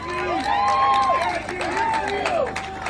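A crowd at a Vote Common Good political rally on Marco Island, Florida, cheers and whoops loudly, with rising and falling shouts and some clapping blending into a continuous roar.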